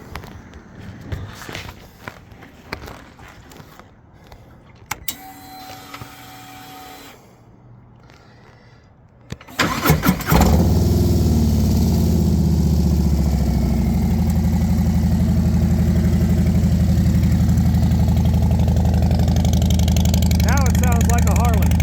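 Harley motorcycle with an opened-up exhaust: after quiet handling sounds, the engine fires and settles into a loud, continuous, deep rumbling idle close to the listener, with no speech over it.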